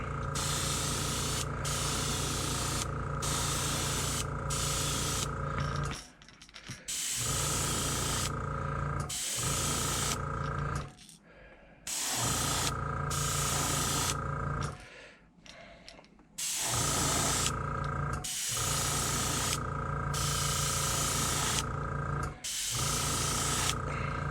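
An airbrush sprays paint onto a fishing lure in a long series of steady hissing bursts, some several seconds long, separated by short pauses.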